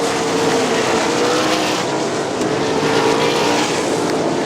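Sprint cars race around a dirt oval speedway, a loud, continuous roar of engines close by with no break, no talk over it.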